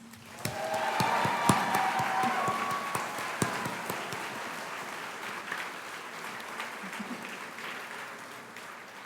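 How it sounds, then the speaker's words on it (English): Sustained applause from a graduation ceremony audience honoring graduates, steady and moderately loud at first, then gradually thinning. "please join me in giving this outstanding group of graduates one more round of applause"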